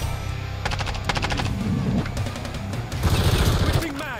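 Video game gunfire in Modern Warfare 3 rattles out as rapid machine-gun bursts, close and loud, with sharp single shots and a muffled thump mixed into the firefight.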